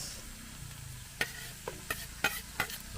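Onion, garlic and ginger sauté in a pan with a steady low sizzle, broken by several sharp scraping clicks of a utensil stirring against the pan.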